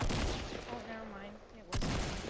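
Fortnite gunfire, a burst of close shots at the start followed by another sharp shot near the end, loud against a quieter gap.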